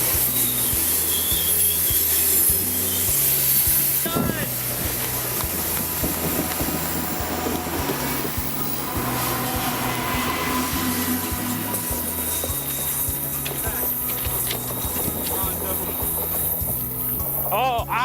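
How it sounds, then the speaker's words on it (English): A train rolls steadily past near the road in the Yellowstone and Glacier area, a continuous rumbling and rhythmic wheel clatter with screeching metal, while people talk over it. "we conveniently got stopped by a train on the way back down."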